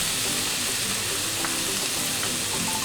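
Pieces of chicken fry in a pan with a steady, dense sizzle that is close and constant and carries on without a break. No one speaks.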